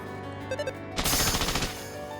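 A rifle-shot effect rings out in an anime-style tabletop video game: after a soft tonal musical phrase, a loud rapid burst of gunfire rattles for under a second, then fades away.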